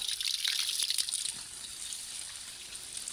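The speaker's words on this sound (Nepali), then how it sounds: "पानी अलिक त आयो" Water flowing from a pipe, a soft continuous hiss and trickle that is a little stronger at first, then settles to a steady quiet stream with no talk.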